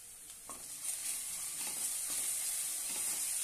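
A ground paste of green chili, garlic and cumin hits hot oil in a pan and sets off a loud, continuous sizzle close by. Faint stirring clicks sound within it.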